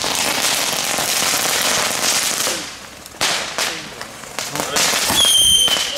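New Year's Eve fireworks and firecrackers set off in the street in Den Bosch, dense loud crackling bursts close by, dropping to scattered sharp bangs and crackles with a brief whistle near the end.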